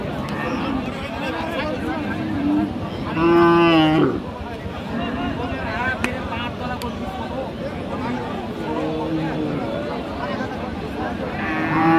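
A cow lows loudly for about a second at a busy cattle market selling cows with calves, rising over constant crowd chatter and nearby voices talking.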